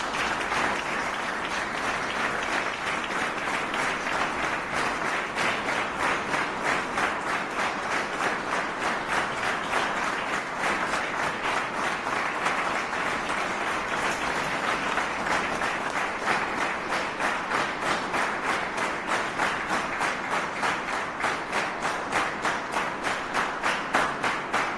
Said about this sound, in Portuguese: eu informo e peço que todos aplaudam o nosso querido homenageado